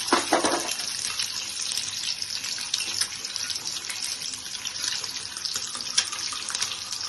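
Eggs fry in hot oil in a wok, giving off a continuous crackling sizzle with scattered pops that rises sharply at the start, then settles into an even hiss, with no talking.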